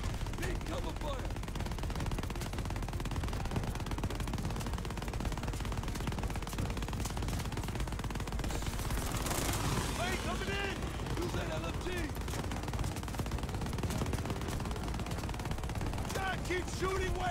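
Dense, continuous gunfire rattles through a battle in the video game Call of Duty Vanguard, a steady wash of overlapping shots with voices shouting under the din.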